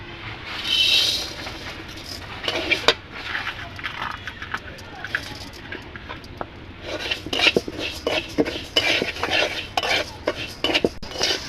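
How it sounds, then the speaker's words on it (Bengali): Moong dal frying in ghee in a kadai, with a metal spoon repeatedly scraping and clinking against the pan over a soft sizzle, sharper stirring bursts in the second half. "প্রথমে আমি মুগ ডালটাকে একটু ভেজে নেব।"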